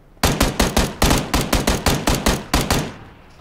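Automatic gunfire in PUBG sounds as a loud, close burst of about fourteen evenly spaced shots with a slight hitch partway through, alone and without talk, ending in a short fading tail.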